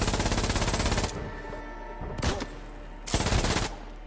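Rapid gunfire in the Mouse: P.I. for Hire video game. A fast automatic burst rattles loudly, followed by two more short, punchy bursts separated by brief quieter gaps.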